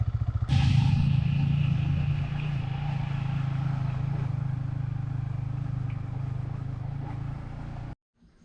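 A motorcycle engine starts loud and idles steadily nearby while being parked at Sitakunda, Bangladesh, fading slightly over several seconds before cutting off abruptly near the end.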